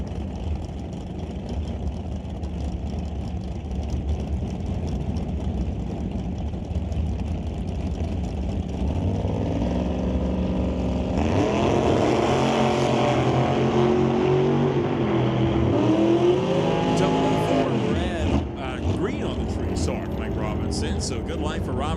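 Two roadster race cars in a Super Pro drag race rumble at idle, then their engines roar and rise in pitch as they run down the drag strip before fading. An announcer talks throughout.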